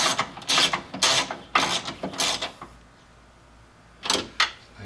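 A hand ratchet bolts a window glass onto its regulator in a 2006 Scion xB door, giving several loud, close bursts of rapid clicking separated by short pauses.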